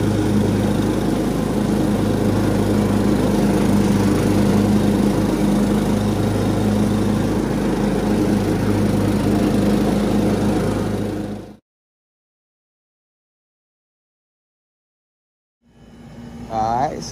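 A new clearance lawn mower engine runs steadily and loud for about eleven seconds, then cuts off into silence before a brief restart surge near the end.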